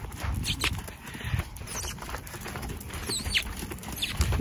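A saddled horse's hooves patter on the ground while cantering, an uneven thudding rhythm heard fairly close, with a voice speaking at times.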